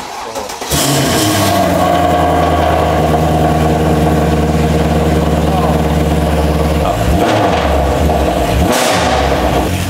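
A car engine cranks and catches after the key is turned, then settles into a loud, steady idle with revving, sustained up close for several seconds while people talk over it.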